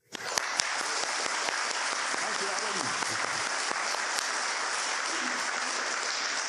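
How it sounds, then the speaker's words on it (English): A conference audience at a Scottish UFO and paranormal event bursts into sustained, dense applause that fills the room steadily throughout, with a brief spoken thanks near the start. "if everybody could maybe just give him a round of applause"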